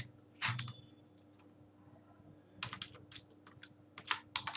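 Quick keystrokes clatter on a computer keyboard, up close and fairly quiet, with a short burst at the start, a pause, then a rapid run of separate clicks, under a low steady hum.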